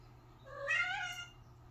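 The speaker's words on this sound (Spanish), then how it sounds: "Andan jugando los gatos tan temprano." A single drawn-out cat meow rises and falls over about a second, faint and somewhat distant, while cats are playing early in the morning against a quiet background.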